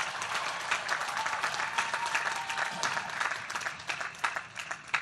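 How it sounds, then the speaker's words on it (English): An audience at a Howard University commencement ceremony applauds the graduating class, with sustained dense clapping and some crowd noise that holds steady throughout. "Let's give them a big round of applause as well."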